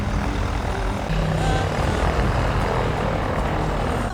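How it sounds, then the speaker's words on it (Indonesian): A small propeller airplane landing, its engine drone and propeller buzz loud, close and steady throughout with no voices. "sebuah pesawat kecil mendarat"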